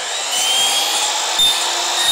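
A sliding miter saw cuts through baseboard trim, giving a steady, loud high-pitched whine with a grinding edge that runs unbroken for about two seconds, with no voices.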